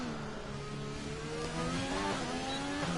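High-revving Formula 1 car engine from the F1 2021 game on a hot lap at Azerbaijan on medium tyres, a steady loud whine rising through gear changes without pause.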